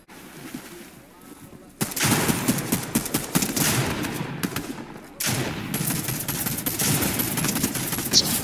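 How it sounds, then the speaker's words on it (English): Video game gunfire in rapid bursts, a dense crackling volley that starts abruptly, pauses briefly and resumes loud and sustained, over a faint quieter stretch at the start. "I'm hearing some gunshots."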